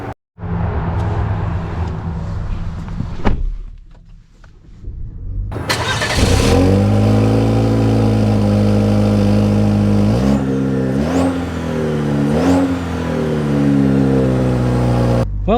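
A 2024 Chevy Colorado Trail Boss engine starts and revs after a quiet stretch, then settles into a steady, loud mid-range drone with rising and falling pitch as the truck drives, heard alone without talk.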